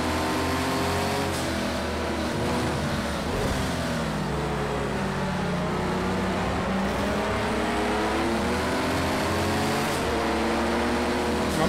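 Porsche 935/80 turbo race car engine in Project CARS 2, running loud and steady throughout, with a continuous droning tone that rises and falls under acceleration, gear changes and lifts, heard from the cockpit with no talk.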